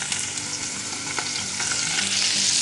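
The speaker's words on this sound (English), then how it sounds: "Now we're going to go ahead and just dump our ham in there. I want to get a little bit of brown on that." Diced ham frying and being stirred in a cast-iron Dutch oven for a lower-carb breakfast, a steady close sizzle with scraping stir strokes throughout, no talking.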